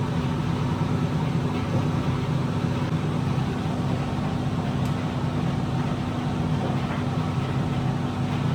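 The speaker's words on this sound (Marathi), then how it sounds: "तर स्टार्ट झालेला आहे आता ड्रायर आपला" A clothes dryer in a shared building laundry room runs just after being started, giving a steady, even drone with a constant low hum throughout, close and unchanging, no voices.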